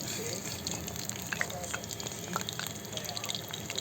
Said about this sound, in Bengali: এইবার মাছগুলোকে ব্যাটারে চুবিয়ে চুবিয়ে আমি ভেজে নিয়েছি যতক্ষণ না পর্যন্ত এর গোল্ডেন কালারটা আসে